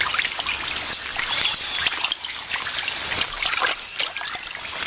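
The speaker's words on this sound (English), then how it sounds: "The floods have driven the armadillo out of her burrow and into the swollen river to swim for her life." Armadillo swimming for its life in a swollen, flooded Amazon rainforest river, heard as steady rushing, trickling water with splashy surges throughout, close and fairly loud, no voices.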